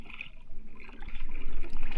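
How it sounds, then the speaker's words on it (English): Paddle strokes dipping and pulling through water on a slow, relaxed paddle off Hawaii, soft close splashing and gurgling that swells as the stroke comes through. "Just a really nice, slow, relaxed paddle."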